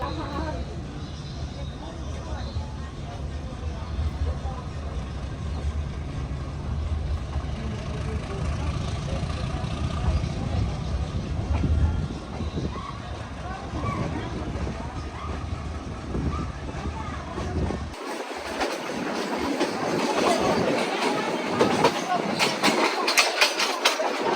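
A meter gauge train runs between Sasan Gir and Somnath with a continuous low rumble and rattle of wheels on rails, a louder clattering stretch near the end, and voices talking over it.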